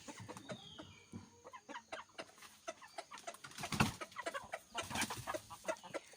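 Four laying village hens cluck nearby in a backyard flock, a quiet run of short repeated clucks and calls, with a couple of louder bursts midway and no talk over them.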